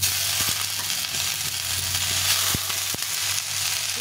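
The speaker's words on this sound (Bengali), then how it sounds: "এই সবটা ভেজে দেবো।" Coriander leaves and black cumin frying in a pan make a steady, close sizzle with a few sharp clicks and stirring knocks.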